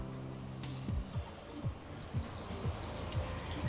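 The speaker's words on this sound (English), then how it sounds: "AJ ran it until he saw the pink come out of the faucet on cold" Pink RV antifreeze running from a camper faucet on the cold side during winterizing, a steady gurgling flow with repeated sputtering bursts as air pushes through the line.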